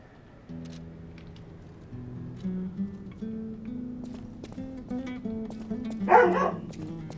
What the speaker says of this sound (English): The sounds of dogs.